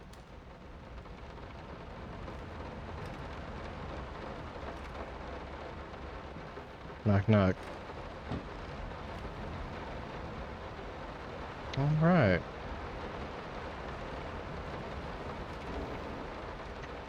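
Steady rain hisses throughout a quiet scene in the horror video game Layers of Fear, a soft continuous wash with a few brief louder bursts, under occasional spoken words.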